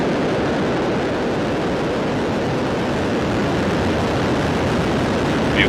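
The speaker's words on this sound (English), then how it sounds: "Ignition. And liftoff of Falcon 9." SpaceX Falcon 9 rocket lifting off from SLC-4E at Vandenberg Space Force Base for the Transporter 14 mission, a loud, dense, continuous rumbling roar with no pauses.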